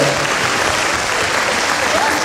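A crowd of guests at a restaurant name-day party with a band claps vigorously to welcome Oksana, a thick, sustained wall of close, loud handclaps with no pauses.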